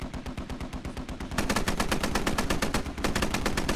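Sustained automatic gunfire from the military video game Squad rattles in a steady rapid rhythm, growing louder and denser partway through, with no talk over it.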